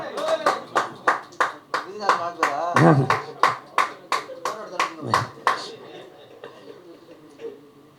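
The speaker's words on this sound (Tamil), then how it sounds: "நீங்களே ஒரு தடவை கை தட்டிடுங்க" A crowd at an album launch event claps in a steady, rhythmic beat, loud at first and then fading out, with voices mixed in.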